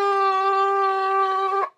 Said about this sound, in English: The low note sounds like this.